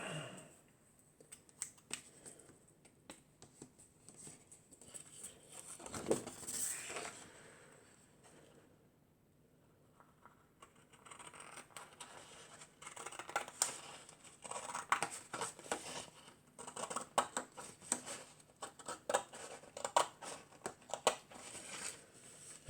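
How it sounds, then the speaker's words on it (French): A pair of scissors snips during a picture-frame makeover, with scattered crisp cuts and rustling, quiet at first and busier in the second half. "Une paire de ciseaux."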